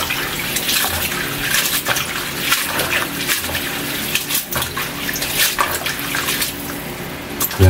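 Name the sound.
water running while washing fresh noodles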